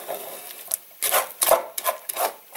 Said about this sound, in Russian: это все время вот так ложкой толочь комочки